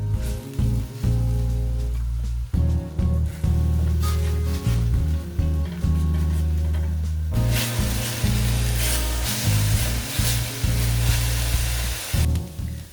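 Onion paste sizzling in a pan as it is stirred, a loud steady fry that swells sharply partway through, with background music and no speech.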